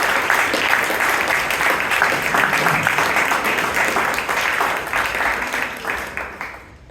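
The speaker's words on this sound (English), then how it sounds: "please give Priyanka Rannorey a big round of applause" Applause from the audience at a Bangalore Toastmasters meeting, a loud, sustained patter of many hands that holds evenly for several seconds before easing off at the end.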